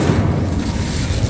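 An Incendio fire spell cast in Hogwarts Legacy, a loud, close, continuous roaring whoosh of flame with a rumbling low end that holds steady through its brief length, with no voices.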